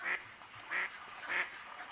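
Ducks quack at a pond, three evenly spaced nasal calls over a faint steady hiss with no talking.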